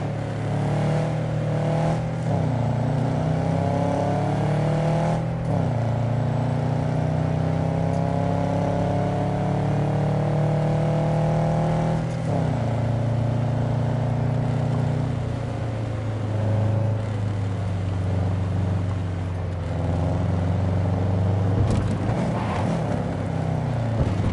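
A car engine idles and hums steadily in Cyberpunk 2077, a continuous low drone with layered tones that holds throughout, shifting slightly in pitch midway and near the end.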